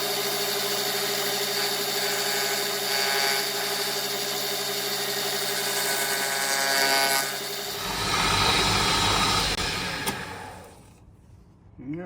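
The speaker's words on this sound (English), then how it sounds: "let's stick it in the lathe and see if we can get it turned" Lathe turning a homemade Nordic Gold ring: a steady whirring machine drone with a high scraping cutting edge, growing rougher and louder near the end before winding down, close, no talk.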